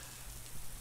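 Rain falls steadily in a brief, even wash of patter, heard alone without voices.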